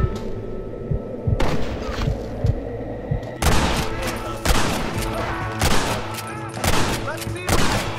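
Gunfire in the video game Red Dead Redemption, bursts of loud overlapping shots with booming echoes, dense and rapid after a quieter opening, close and alone.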